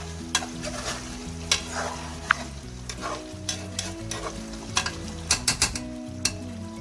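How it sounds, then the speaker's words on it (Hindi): Chicken karahi masala with softened onions frying on low heat in a karahi, a steady sizzle under repeated sharp scrapes and clinks of a spoon stirring against the pan. "तो अभी लो हीट पे अच्छे तरीके से भूनेंगे"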